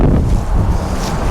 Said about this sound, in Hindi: यहाँ पर इतनी तेज़ हवा और इतनी ज़्यादा ठंड है